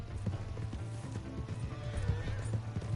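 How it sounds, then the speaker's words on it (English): A horse gallops in the Red Dead Redemption 2 video game, its hoofbeats a steady, fast clip-clop that runs throughout over a busy game soundscape. "Hey, that's my horse!"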